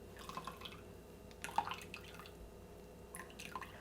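Dashi broth with bonito flakes being pressed and dripping through a strainer, a few scattered drips and soft wet splashes at close range, quiet between them.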